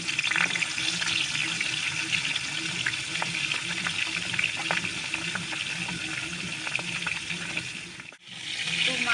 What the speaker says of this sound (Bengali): কড়া গরম হয়ে গেছে, তেলটা দিয়ে দিচ্ছি, সর্ষের তেল। তো মাছের মাথাটা দিয়ে দিচ্ছি আগে।